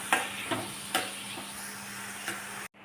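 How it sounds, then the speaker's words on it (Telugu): Green chillies and finely chopped onions fry in a pan for a mushroom curry, giving a low, steady sizzle punctuated by a few sharp stirring clinks before the sound cuts off abruptly. "పచ్చిమిర్చి, ఆనియన్స్ సన్నగా తరుక్కున్నవి, ఆనియన్స్ బాగా ఫ్రై చేసుకోవాలి."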